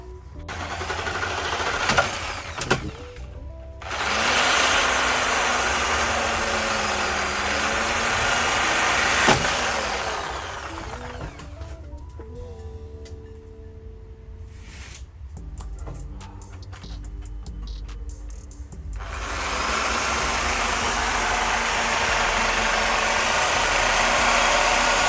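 A reciprocating saw cuts through a brake line on an E36 M3, with loud buzzing bursts of sawing broken by short pauses and a quieter stretch partway through.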